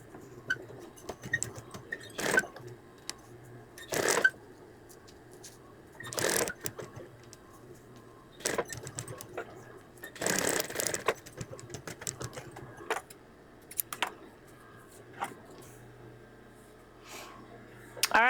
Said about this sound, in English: I also don't have a reverse on my machine, so to back stitch, I will stitch it and then stitch again.